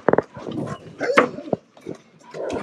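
A shepherd dog barks excitedly in a forest, several quick sharp barks at the start followed by scattered yelps and whines at moderate distance.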